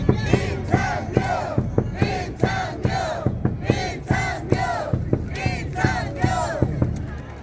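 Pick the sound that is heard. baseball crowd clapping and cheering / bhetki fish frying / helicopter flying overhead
baseball crowd clapping and cheering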